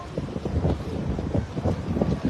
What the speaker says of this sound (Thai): อากาศเย็นลม ค่อนข้างแรงพอสมควร